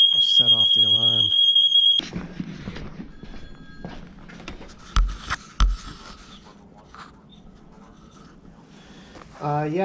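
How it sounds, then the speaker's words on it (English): Smoke alarm beeping in a business, a shrill, piercing tone that sounds continuously for about two seconds under a voice, then cuts off and leaves quieter room noise with a few thumps and talking. "Set off the alarm."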